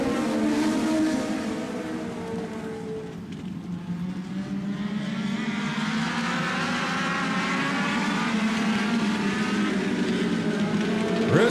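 Legends race cars roaring around the Grand Bend Speedway quarter-mile oval at the green flag, a dense, loud, continuous engine drone with rising and falling pitch as the pack circles, no voices over it.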